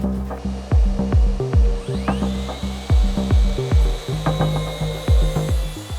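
Power saw making a shallow pass through walnut, a close, rhythmic series of rasping strokes with a steady mechanical hum underneath and a rising whine partway through.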